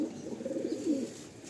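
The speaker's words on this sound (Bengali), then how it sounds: "সবই লালসিরা পায়রা" Lalsira pigeons in a loft give a soft, low cooing call, close and fairly quiet, a single brief throaty coo sequence with no voices.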